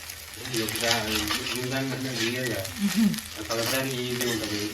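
Chicken fried rice with masala sizzles and scrapes as it is stirred in a large kadai, a continuous frying hiss with ladle clinks beneath a person talking throughout.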